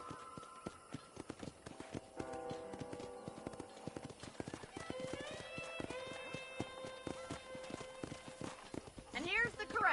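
Horse hooves clip-clop steadily through a ranch corral in the video game Red Dead Redemption, mixed under continuous talk and a musical backdrop, with a brief whinny-like cry near the end.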